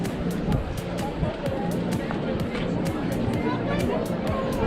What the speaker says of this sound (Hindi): और काफ़ी भीड़ आई हुई है, काफ़ी टूरिस्ट हैं यहाँ पे